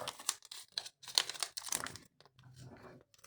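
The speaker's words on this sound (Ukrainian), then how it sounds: "Открываем наш пакетик." Close crinkling and crackling of plastic packaging in several quick bursts, with short pauses between, like a packet being torn open.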